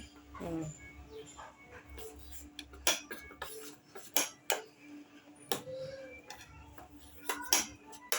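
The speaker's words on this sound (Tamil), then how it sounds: "வெங்காயம் மாவுல போடணும். நல்லா கலக்கிக்கலாம் சொல்லு." Onion stirred into dosa batter in a bowl: a run of sharp, irregular clinks and taps of a spoon against the vessel, fairly close but soft, with brief wet squelches and a faint voice early on.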